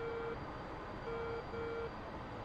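A radar warning receiver in a flight simulator game emits clean electronic tones, three short beeps with pauses between them, over a low steady background hum.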